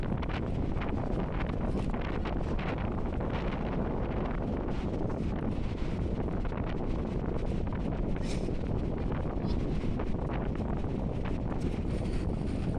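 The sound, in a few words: wind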